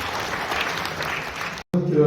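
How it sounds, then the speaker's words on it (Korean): Audience applause at a corporate management-innovation CEO seminar in a hotel hall, a steady dense clapping that breaks off abruptly near the end before a short burst of talk and room noise. "다시 한번 큰 박수 부탁드리겠습니다"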